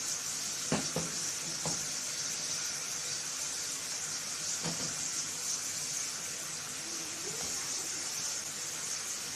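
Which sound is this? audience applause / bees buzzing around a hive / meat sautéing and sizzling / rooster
meat sautéing and sizzling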